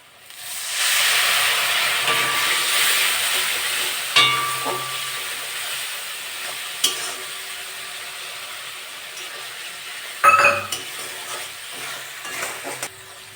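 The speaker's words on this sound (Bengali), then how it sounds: "এবার একটু সামান্য জল দিয়ে দেবো মশলাগুলো ভালো করে কষে দেবো" Spice masala stir-fried with a little water in a pan for a chicken and potato dish: a loud hiss and sizzle that fades gradually, broken by a few sharp spoon clanks and scrapes against the pan.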